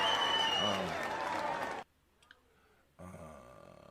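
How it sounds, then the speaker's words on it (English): Audience applause for the Ujamaa babies at a toast event, clapping and voices for under two seconds, then a sudden near-silence before the clapping crowd sound returns. "we want to give all of the Ujamaa babies a round of applause"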